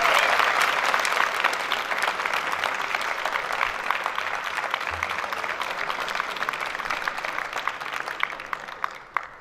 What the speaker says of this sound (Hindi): इन सब के लिए भी खुशी तालियां बजाएंगे।